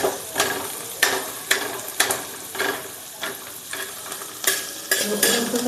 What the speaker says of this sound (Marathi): लाल कांदा भाजायचा.